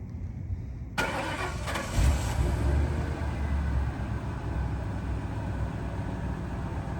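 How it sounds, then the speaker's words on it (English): A 1999 Ford Crown Victoria LX HPP engine cranks and catches, then settles into a steady, smooth idle with a low exhaust rumble close by. "we're gonna start her up and listen to the exhaust note on this car"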